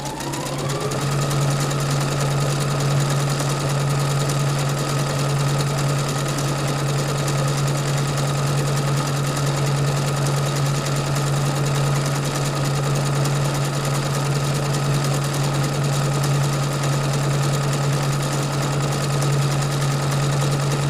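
A Fadimex sewing machine runs steadily in memory-function mode, stitching a programmed pattern through fabric with a constant, close mechanical whir and hum that continues unbroken for the whole stretch.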